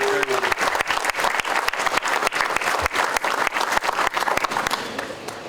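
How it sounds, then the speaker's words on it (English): Conference attendees at EWPC 2024 in Hawai'i clap during welcoming remarks, a lively round of distinct, close hand claps forming a dense crackling applause that runs steadily and begins to thin at the end. "Let's give them a round of applause because they brought us together tonight."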